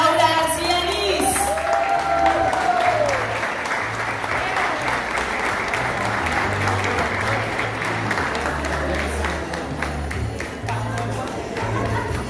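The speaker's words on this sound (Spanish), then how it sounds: "Recibimos con un fuerte aplauso a la secretaria de Desarrollo Social, Laura García Liz." Sustained applause from a crowd welcoming the social development secretary at a public event, with brief voices at the start and a steady low hum beneath the clapping.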